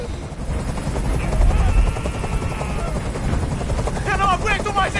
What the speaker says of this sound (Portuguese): Eu não aguento mais esse barulho! Esse helicóptero tem que sair daqui agora!